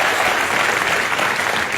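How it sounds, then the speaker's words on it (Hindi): Steady, dense applause from a crowd greeting cricket coach Wasim Akram at an interview event, filling the short stretch continuously without speech. "इस बात के लिए पहले तालियां होनी चाहिए"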